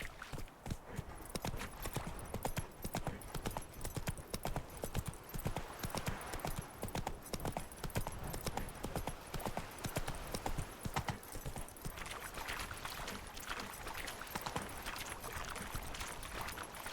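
Horse hooves clip-clop at a steady trot in The Witcher 3 video game, a continuous rhythmic gait with an occasional whinny, carrying through the whole stretch with no talk over it.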